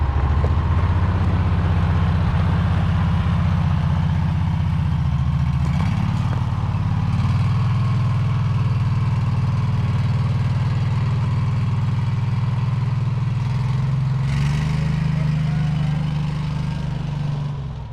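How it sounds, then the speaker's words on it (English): A Gator utility vehicle's engine runs with a steady, loud mid-pitched drone that dips in pitch about six seconds in and again near fourteen seconds, then fades slightly at the end. "Old Romeo, learning how to ride in the gator still."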